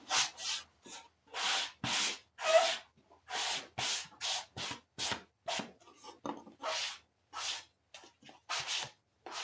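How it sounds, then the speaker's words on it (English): Sandpaper worked over a surface in steady, rhythmic back-and-forth strokes, close and rasping, about fifteen distinct passes with brief gaps between them and no talking. "Yeah, sandpaper matters."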